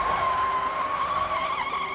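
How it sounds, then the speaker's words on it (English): A heavy car fishtails and skids during a police chase, its tires letting out a loud, sustained squeal that wavers slightly in pitch over a rough road-noise bed. "once that heavy car starts to fishtail"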